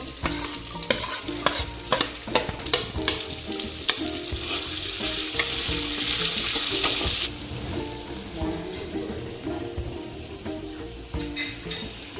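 Chopped onions hit hot oil in a pan for Pahari chicken gravy, giving a loud, steady sizzle with repeated scraping stirs; the hiss drops noticeably partway through and carries on more softly, with no talking.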